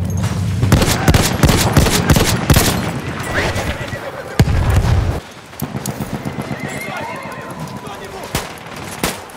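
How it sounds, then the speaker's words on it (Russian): Grenade explosion and gunfire in Battlefield 1 on the Tsaritsyn conquest map, a busy mix of sharp bursts and booming blasts over horse whinnies and hoofbeats, with shouted voices throughout. "Вот им граната!"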